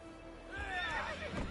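A horse in The Witcher 3 neighs loudly in a rising, wavering whinny over a busy game soundscape, with low thudding movement underneath during combat.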